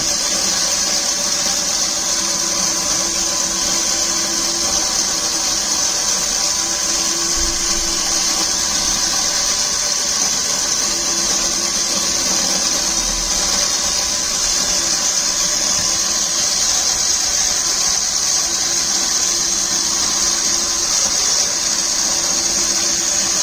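A motorized screw jack's slow-turning gear motor runs continuously, giving a steady mechanical whine and hum with a constant hissing tone, unchanging and fairly loud throughout.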